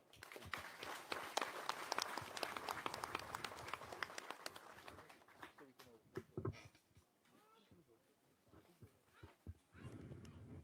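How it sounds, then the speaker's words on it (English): Outdoor crowd applause for President Irfaan Ali during a visit to the Monkey Mountain region of Guyana, dense clapping that swells loudest at first, thins after a few seconds and then picks up again. "I think he deserves a better applause"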